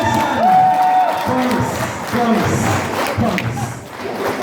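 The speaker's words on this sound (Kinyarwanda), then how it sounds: "amashyi" Guests at a wedding celebration break into applause and cheers, a loud, dense crowd noise lasting several seconds with a host's voice cutting through.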